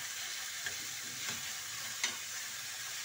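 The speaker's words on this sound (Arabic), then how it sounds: "بعد ما سخن لي شويه الزيت، هنايا ندير هذيك لا كونتيتي تاع لي زونيون تاع البصل، هانا ونقلوه بيان حتى يبدا يدبل" Onions sizzle and fry in hot oil, a steady broadband hiss with a few soft scrapes as they are stirred, fairly quiet and close, with no voices.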